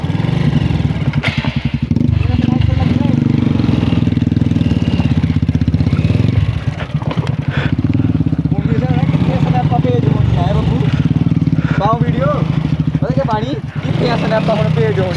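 A motorcycle ridden fast, its engine droning loud and steady throughout, with people talking over the noise.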